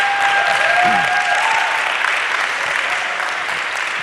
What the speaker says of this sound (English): if we can give a round of applause to our panelists